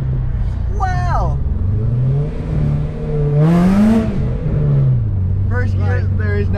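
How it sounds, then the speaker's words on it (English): A supercharged car accelerates hard in first gear, its engine note climbing and falling through several revs with a loud supercharger whine, close by, while people exclaim over it. "First gear, like, there is no traction. None. And that supercharger is so loud."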